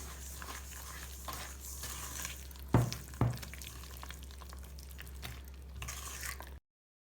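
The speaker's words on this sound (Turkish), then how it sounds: "Ve bunu iyice karıştıracağız şimdi." Strawberry cheesecake mixture with sugar stirred by hand in a bowl, making soft wet squishing and swishing with two louder knocks partway through, steady and fairly quiet.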